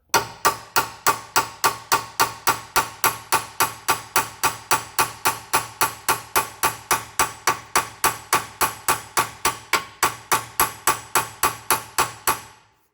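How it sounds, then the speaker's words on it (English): Rapid, even metallic taps of a small hammer driving out a lower ball joint on a 2013 Hyundai Santa Fe, dozens in a steady rhythm, close and sharp, continuing without pause. "take a little hammer and just tap it"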